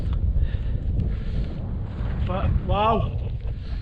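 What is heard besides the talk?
strong wind on a mountain hillwalk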